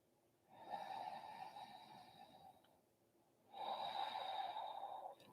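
Steady breathing through the nose while holding an Ashtanga yoga pose: two long, audible breaths with a brief quieter gap between them, close and soft, with no talking.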